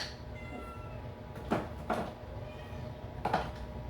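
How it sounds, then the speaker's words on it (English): Cats meow indoors in a kitchen, a few short faint cries over a low background hum, spaced irregularly through the stretch. "Both of you are meowing at me now."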